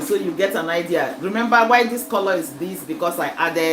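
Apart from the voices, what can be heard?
No distinct noise like a dog, phone or traffic.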